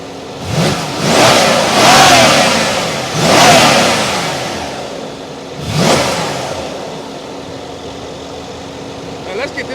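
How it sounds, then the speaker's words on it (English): Mercedes-AMG S63 engine revving hard in several loud bursts, each swelling and falling away with audible turbo spool, the rises coming close together then a final rev after a short pause. "you can actually hear the spools of the turbos when I hit the gas up here"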